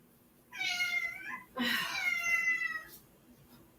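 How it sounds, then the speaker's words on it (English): A cat meows twice up close, the second call longer and drawn out, over a quiet background hum. "that cat that you hear meowing in the background is Davy"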